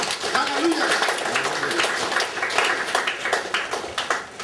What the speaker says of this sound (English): I want you to clap your hand right now for Jesus